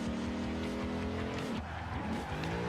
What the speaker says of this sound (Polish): Drifting na hamulcu.